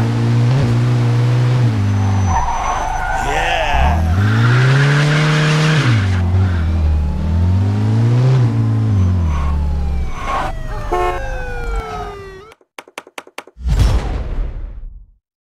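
Police pursuit of a speeding car in the Mafia II video game: a loud wailing siren rises and falls in long sweeps over a roaring engine and squealing tires, ending in abrupt crashing impacts.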